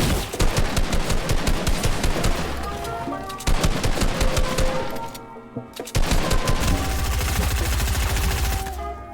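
Rapid gunfire in the video game Fortnite: dense bursts of repeated shots in several loud volleys separated by short pauses, with some building and impact sounds mixed in.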